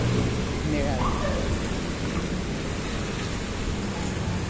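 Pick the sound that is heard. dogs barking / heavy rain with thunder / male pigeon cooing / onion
heavy rain with thunder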